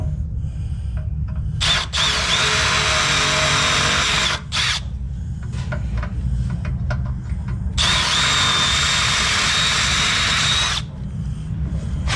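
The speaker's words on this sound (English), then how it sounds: "We got to drill these out." A power drill whines loudly in two long bursts while drilling out bolts, with shorter mechanical clatter and grinding between them, close up.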